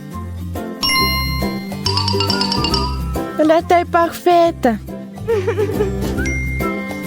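A bright electronic chime rings out in short ding-like bursts among other tones, with a voice speaking French over it.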